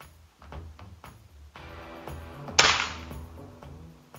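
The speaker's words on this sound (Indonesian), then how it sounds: "Kita lakukan tembakan berikutnya." A single sharp report from a Neo GNT Titanium air rifle firing a Canon Hercules pellet during an accuracy test, standing out loud and close against a faint background.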